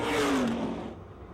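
Pizza Hut late model race cars at Pennsylvania Motor Speedway near Pittsburgh, engines roaring out of turn 4 as the field restarts, a loud sustained mid-pitched drone with one car's pitch sliding down, then fading slightly.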